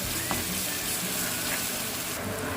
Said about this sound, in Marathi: आता त्यात लाल मिरची पावडर थोडी हळद थोडा गरम मसाला बारीक गॅस करून परतून घेला